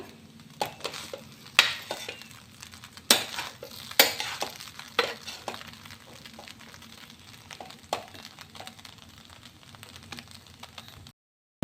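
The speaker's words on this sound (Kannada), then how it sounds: "ಈಗ ಇದಕ್ಕೆ ಅರಶಿನ ಹಾಕಿ ಚೆನ್ನಾಗಿ ಮಿಕ್ಸ್ ಮಾಡುವ" Onion poha with turmeric being stirred in a pan, heard as close, irregular scraping and clinking strokes of a spoon against metal over a faint background hum, with no talking.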